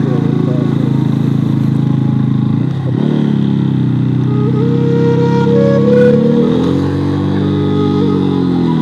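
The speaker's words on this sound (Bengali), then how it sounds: "মোটরসাইকেল আসতেছে" A motorcycle approaches along a quiet hill road in a remote, rugged area, its engine drone rising and shifting in pitch as it draws nearer, loud and steady under ongoing background noise.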